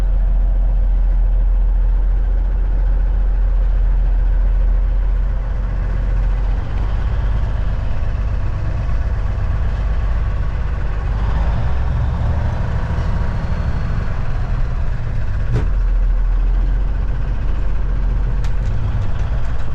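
A day cab truck's heavy engine idles loud and close, a constant deep rumble with slight throttle swells and a couple of faint clicks, no voices.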